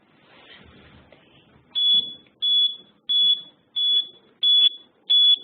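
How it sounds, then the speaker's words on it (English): A project circuit's buzzer, triggered when voltage passes a set threshold, beeps six times in a steady rhythm, each tone loud, piercing and high-pitched, after a brief stretch of faint background noise. "Above the threshold, the buzzer will be raised."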